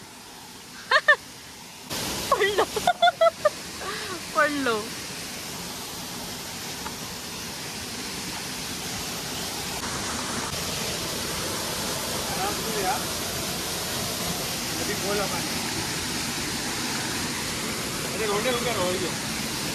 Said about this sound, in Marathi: तर हा आहे चांदेर वॉटरफॉल